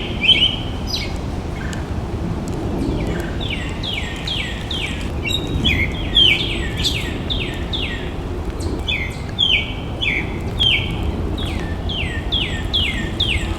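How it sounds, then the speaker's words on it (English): Repeated bird calls ring out in rhythmic series of bright, descending chirps over a steady low rumble of distant background noise, close and clear throughout. "listen to the bird songs now"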